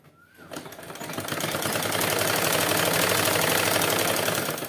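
A sewing machine runs continuously while stitching a salwar, its steady mechanical whir rising from a quiet start and holding loud and close for several seconds.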